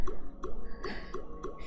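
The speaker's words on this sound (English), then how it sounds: "sounds like a water droplet." Water droplets drip in The Unfinished Swan, a regular series of bright, close plinks about every third of a second, wet and slightly squishy, with nothing else heard.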